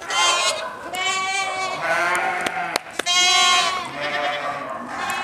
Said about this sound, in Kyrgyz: бул эчкилер Бурский эчкилер.